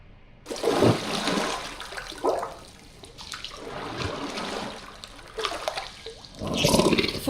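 Water gurgles and rushes in the video game The Last Campfire. It comes as surging, bubbling bursts and trickles that swell and fade over several seconds, fairly loud, with no voices.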